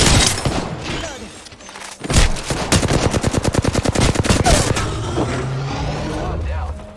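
Apex Legends gunfire: a long burst of rapid automatic shots in a steady rattling rhythm, loud and close, preceded and followed by a dense mix of game noise.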